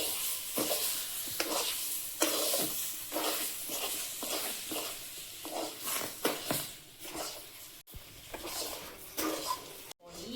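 Water poured into fried semolina in a hot pan, a long hissing sizzle broken by scraping stirs and utensil clatter against the pan, close and steady.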